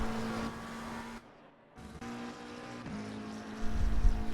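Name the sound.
McLaren race car engine accelerating, Assetto Corsa Competizione video game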